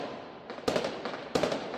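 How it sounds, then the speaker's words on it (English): Fireworks burst over Pistoia, Italy, heard from a distance: two sharp loud bangs roughly two-thirds of a second apart, each followed by crackling and rumbling over a steady background din. "I'm watching from a distance how the fireworks were going"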